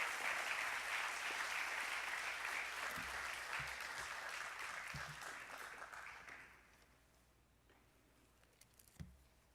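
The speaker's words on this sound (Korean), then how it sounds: "우리 환영의 박수, 큰 박수로 환영해 주시기를 바랍니다" Church audience applauding to welcome a pastor to the pulpit at a Holy Week youth service, a dense steady patter of many hands that fades out around six seconds, leaving quiet room tone with a few knocks.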